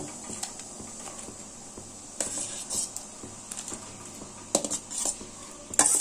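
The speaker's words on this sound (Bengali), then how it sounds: "পেঁপেটা শিরার সঙ্গে ভালোভাবে মিশিয়ে দিলাম" A spoon scrapes and clinks in a pan as boiled papaya is stirred into sugar syrup, in irregular bursts over a quiet background.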